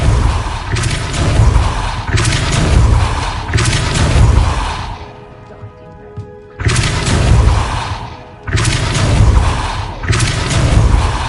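Depulso spell cast in Hogwarts Legacy, a string of loud, broad whooshing blasts in several bursts, with a quieter lull in the middle before the blasts resume.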